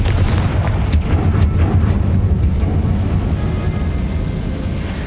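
A Confringo fire spell blast in Hogwarts Legacy bursts out as a loud, booming roar with a few sharp cracks, sustained rumble filling the whole stretch with no talk over it.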